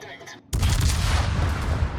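Secondary guns on a warship fire at an enemy ship in a naval video game, a sudden loud burst of gunfire that rolls on as sustained booming.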